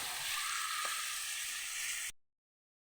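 Goat meat sizzles in a hot pan with a steady, bright hiss that stops abruptly into silence.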